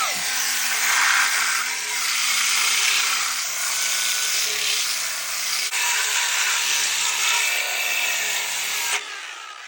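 A power sander works a rough-cut wood post, a steady loud broadband rasp running almost continuously with slight swells before cutting off near the end.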